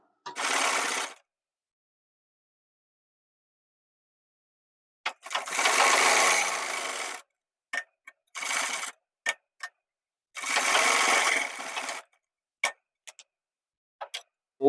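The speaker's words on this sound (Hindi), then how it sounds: "हम यहाँ पर एक पैर का मार्जिन लेकर सिलाई लगाएंगे।" A sewing machine stitches a cuff for a men's shirt in separate short bursts with silent pauses between, plus a few isolated clicks from the machine.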